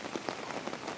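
Rain falls steadily on a surface in a farm setting, a soft hiss of scattered drops close by, brief and alone with no voices.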